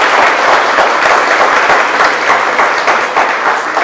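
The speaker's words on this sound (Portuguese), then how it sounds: "uma salva de palmas, senhoras e senhores," A worship audience claps steadily for Helena and Ananias, a dense, loud wash of applause that keeps going without a break.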